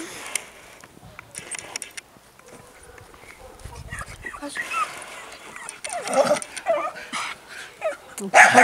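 Dog at an adoption shelter, with faint scattered yips and whimpers early on and louder movement and handling sounds building toward the end, mixed with people talking nearby.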